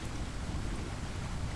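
Steady rain falls without a break, a dense even hiss of drops filling the background at moderate volume, with no voices over it.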